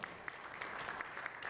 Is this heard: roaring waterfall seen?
no